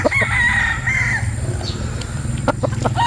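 A Lacy Gilmore gamecock from a breeder crows in long drawn-out calls near the start. Other fowl can be heard around it, over a steady low hum of background noise.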